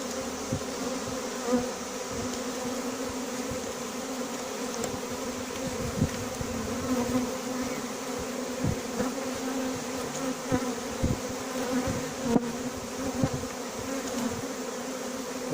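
A dense, steady buzzing of a honeybee swarm being collected fills the air, close and continuous, with occasional individual bees droning past.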